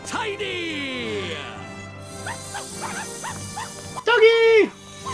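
A dog in the Ni No Kuni: Wrath of the White Witch game lets out a burst of short barks near the end, over game music and character voices.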